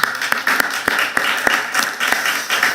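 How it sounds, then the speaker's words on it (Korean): Congregation applause during a church service, with a few distinct sharp claps standing out over a softer, continuous bed of many hands, fairly close and lively. "큰 박수로 영광을 돌립시다"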